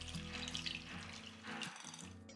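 Coconut milk is poured into rice flour for orappam, a faint, steady liquid pour heard close by against a low musical background, with no one speaking.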